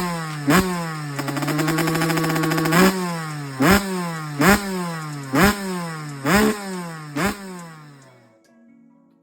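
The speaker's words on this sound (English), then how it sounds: "third kick, she's fired up" A rebuilt Honda CR125 two-stroke motorcycle engine runs loud and close, blipped through a string of sharp revs that rise and fall in a regular rhythm before it idles down and stops.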